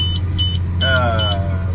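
Repeated short high electronic warning beeps pulse steadily over the low rumble of a running tractor engine pulling a row crop cultivator through corn, with a brief tonal whine midway.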